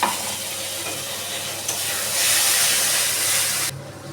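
Water poured from a rinsed mixer jar into a pan of frying masala with chili powder for dim soybean curry, giving a loud steady sizzle that swells into a brighter steam hiss, then drops off abruptly near the end.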